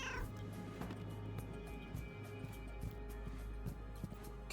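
Cat meowing in the video game Schrödinger's Cat Burglar, a short cry near the start over a steady hum of game music and background ambience, with no talking.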